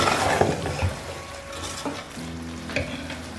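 Carrot halwa with khoya being stirred in a pan sizzles steadily and close by, with scraping strokes and a few soft knocks of the spoon, and no talking.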